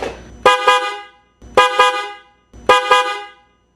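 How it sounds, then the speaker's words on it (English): Three loud, separate blasts of a three-tone air horn on a Suzuki GSX-R1000 motorcycle, each a short rising sequence of tones, close by with brief gaps between. "Holy moly, this thing is loud."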